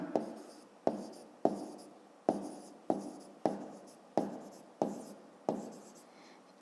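Pen writing on paper in a school maths exercise, a run of about ten quick strokes, each starting with a sharp scratch and fading, repeating in a steady rhythm, close and quiet.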